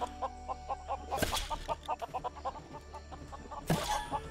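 Chickens in the LEGO Worlds video game on PlayStation 5 cluck in a quick, regular series of short calls, broken by two loud bursts of game sound effects.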